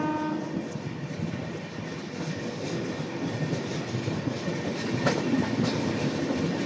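Train 15231 from Barauni to Gondia rolls steadily along a curve through a ghat section, a continuous rumbling clatter of wheels and wagons at moderate distance, with faint squeals and a brief horn-like tone midway.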